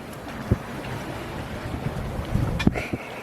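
Wind blowing across a sailboat at sea on a passage to Italy, a steady broad rush with occasional bumps and knocks against the hull and rigging, no voices.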